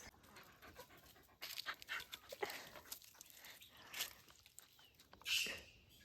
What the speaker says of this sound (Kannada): ಇದು ನಮ್ಮ ಮನೆ ನಾಯಿ ನನ್ನನ್ನು ಎಳಿತಾ ಉಂಟು